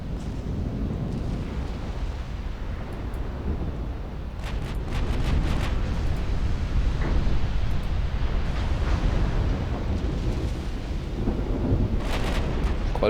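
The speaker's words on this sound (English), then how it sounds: "There we go, we're actually scoring torpedo hits." Torpedo hits explode on warships during a naval battle in the Ultimate Admiral Dreadnoughts video game, a continuous deep rumbling roar with layered booming blasts and crackling debris, steady and loud throughout.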